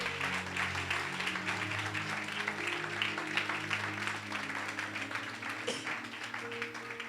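Church congregation applauding at a French-speaking Sunday service, steady crowd clapping throughout over sustained music chords from an organ or keyboard.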